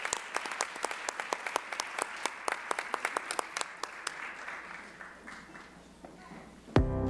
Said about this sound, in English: Please give all the nominees for a distinguished administrator another round of applause as they